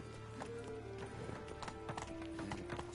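Clip-clop hooves of Roach, Geralt's horse in The Witcher 3, beating a steady trotting rhythm close by, with game music and ambient tones running underneath.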